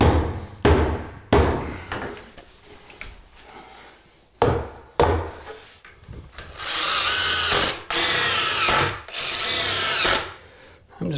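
Power drill driving screws into a 2x6 board during a budget bathroom remodel, several short whirring bursts with pauses between them, then a longer sustained run, close and fairly loud.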